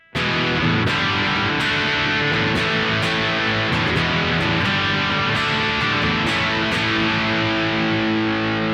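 A distorted electric guitar rings out through a Bogner XTC amp in channel 3 plexi mode, sustained crunchy chords with a few picked accents, loud and continuous without any talking.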